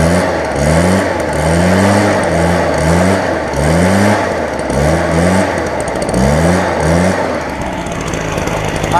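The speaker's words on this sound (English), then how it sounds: "But I'll give it a little rev." Stihl BR420 backpack blower, just repaired, revved loud and close in repeated rising and falling bursts over its engine drone, with no talking.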